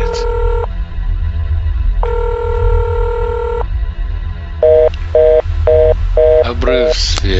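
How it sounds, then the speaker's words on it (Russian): Telephone tones from a call placed to the scientist in the Nancy Drew game The Silent Spy: two long steady tone bursts, then a quick run of short repeated beeps. The call goes unanswered, ending in a clipped electronic chirp. "Звонок ученому, он не отвечает"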